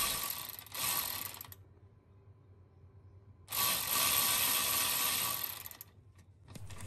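Ratchet wrench loosening a bolt to remove a bush, two bursts of rapid dense clicking separated by a quiet gap, close and fairly loud, with no talking.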